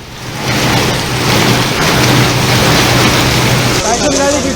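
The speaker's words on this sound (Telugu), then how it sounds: "చినుకులా మొదలైన వాన కుండపోతగా కురుస్తోంది" A heavy rain downpour lashes Hyderabad as a loud, steady wash of dense hiss that continues unbroken from start to finish.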